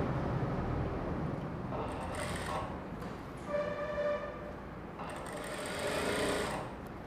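A sewing machine runs in bursts while stitching a plain blouse, its close rapid mechanical whir pausing briefly between seams, with a soft voice in the background.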